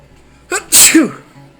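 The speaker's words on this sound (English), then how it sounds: "Whoa, big sneeze there." A single loud sneeze with a short sharp intake before it, close by, followed by quiet.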